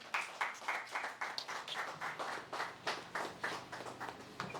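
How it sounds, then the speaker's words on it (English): An audience at a staff training session claps for Bisola, a moderate group of distinct, fairly close hand claps in a loose, lively rhythm with no voices. "let's give a round of applause to Bisola as she comes up"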